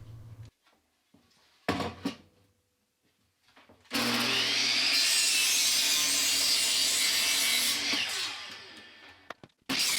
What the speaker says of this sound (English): so I needed to cut 8 2x4s, just under 24 inches long